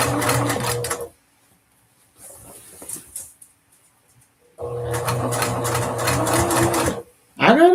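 An electric sewing machine runs in two bursts stitching a custom princess-seam dress, steady mechanical whirring up close, separated by a quiet pause with faint handling sounds, then a brief sharp noise at the end.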